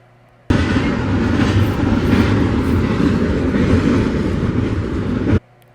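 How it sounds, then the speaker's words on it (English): Intermodal freight train locomotives pass by, a loud, continuous rumbling roar that fills the scene for about five seconds with no talk, then cuts off abruptly. "It's a good shot of those locomotives going over there. It's another intermodal."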